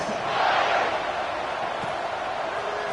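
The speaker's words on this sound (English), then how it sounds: "this crowd is buzzing after that last score" Football stadium crowd at a college game giving a steady, loud, broad roar and murmur that holds evenly throughout, with no distinct voices standing out.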